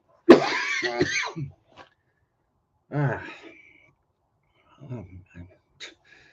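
Several harsh coughs and throat-clearing bursts come in separate fits with silent gaps between, close and dry.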